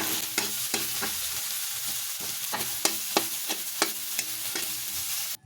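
Corned beef sisig sautéing in a pan, a steady sizzle of frying under repeated scraping strokes of a spatula stirring the meat, close up and continuous with no talking.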